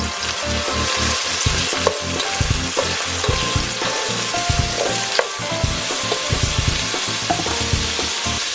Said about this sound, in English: we will add the boiled groundnuts. Just slightly mix it.